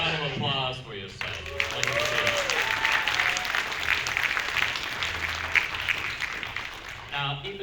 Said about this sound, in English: Faithful, a round of applause for yourself.